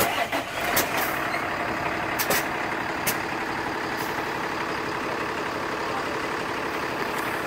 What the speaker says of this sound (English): So, we have our very first truck. For our transportation company,